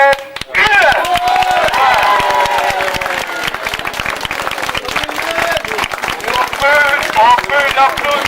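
A crowd at a village festival in Blehen applauds a newly elected village president, dense close clapping that carries throughout while voices and cheering rise over it.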